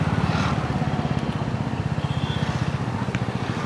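A motorcycle ridden along a road on a rainy day, its engine a steady throbbing drone with a regular pulse close to the rider and a continuous rush of road and wind noise behind it.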